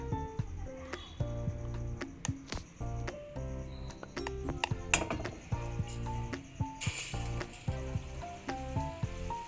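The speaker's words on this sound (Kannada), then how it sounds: "ಈ ರೀತಿ ಸ್ಪೂನಲ್ಲಿ ಕೇರ್ಫುಲ್ಲಾಗಿ ಎತ್ಕೊಂಡು ಎಣ್ಣೆಗೆ ಬಿಡೋಣ" Gram-flour-coated tomato and cabbage stuffed bondas sizzle in hot oil, a steady frying hiss partly buried under prominent melodic background music with a few soft utensil clinks.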